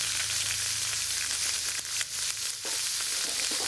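Cumin seeds frying in hot oil in a pan, with ground ginger and green chilli going in, produce a dense, continuous close sizzle with faint stirring scrapes and no talking.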